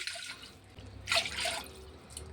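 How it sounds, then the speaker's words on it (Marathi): Water poured from a small glass into a cooking pot while boiling water is prepared for sabudana and potato papad, heard as a couple of soft splashing pours in a quiet kitchen. "टोपामध्ये मी याच गिलासाने 5 गिलास पाणी टाकून घेणार आहे"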